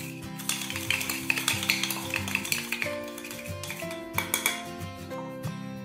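A spoon clinks rapidly against a cup while coffee and sugar are stirred together for homemade cappuccino, a dense run of close metallic taps and scrapes.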